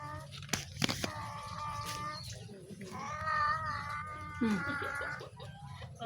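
A cat meows repeatedly in drawn-out, wavering cries, close and fairly clear, with a couple of sharp knocks near the start.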